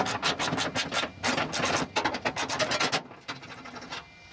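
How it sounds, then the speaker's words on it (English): A wrench works a 14 mm bolt on an LG dryer wheel shaft, giving a run of close, rapid scraping and ratcheting strokes in quick bursts that ease off near the end. "This bolt is 14 millimeter and all you have to do is loosen that."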